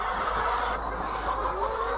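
Free-range chickens cluck softly and continuously nearby, a low murmuring chatter of fowl over faint background noise, with no talking.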